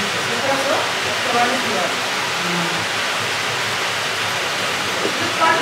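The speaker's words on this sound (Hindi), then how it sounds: "250 साल पहले पानी से चलने वाली यह चक्की बनाई थी।" Water pours through a 250-year-old water-powered flour mill in a loud, steady, broadband rush that never lets up, with faint voices talking beneath it.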